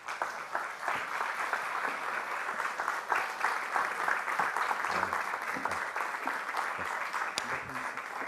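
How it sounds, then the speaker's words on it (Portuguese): An audience claps to welcome the writer Gonçalo M. Tavares at a talk session in Porto, a steady, full round of applause that holds for several seconds, with a voice or two faintly heard under it. "por favor, uma salva de palmas para Gonçalo M."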